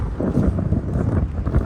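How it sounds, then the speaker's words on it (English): Gusty wind buffets the microphone on a blustery day beside a Tesla Cybertruck, a steady, loud, close low-frequency roar that swells and dips without pause. "Oh, windy day."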